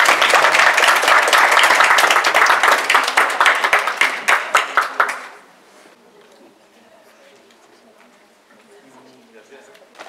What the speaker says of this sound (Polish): Brawa!